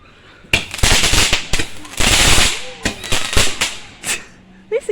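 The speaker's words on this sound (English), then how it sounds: "You used to call them Roman candles." Roman candle fireworks on Bonfire Night fire a series of sharp cracking shots and bursts, loud and close, with fizzing trails between them and voices faintly mixed in.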